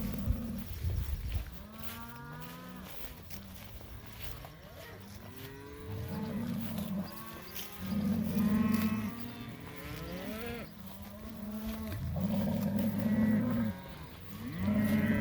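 Cattle in a pasture low repeatedly, several deep drawn-out moos arriving in overlapping waves from more than one animal, some close and loud, others farther off, with no talking over them.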